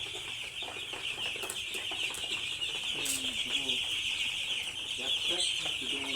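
Chickens cluck and call close by in the rain, with steady rain noise behind the birds and a voice talking at moderate level over them.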